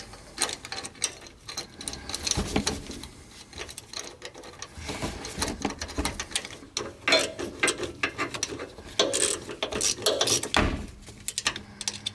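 A ratchet wrench clicks through rapid bursts of ratcheting while tightening a bolt through a bracket during an Airlift Performance 3H height sensor install, with close, irregular mechanical clatter and pauses between strokes.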